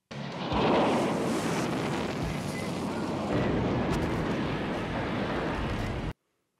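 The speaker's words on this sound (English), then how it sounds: "six different angles for that one explosion" A huge movie explosion from Iron Eagle roars in a dense, sustained rumbling blast lasting about six seconds, loud and broadband with a crackling wash, then cuts off abruptly.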